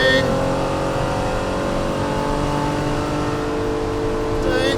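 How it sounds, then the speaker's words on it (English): A 1973 Ferrari 365 GTB/4 Daytona V12 with straight side pipes drives down a pit lane, its loud, steady engine note droning close by throughout, with a voice faintly audible at times. "That V12's already a symphony just heading down pit lane"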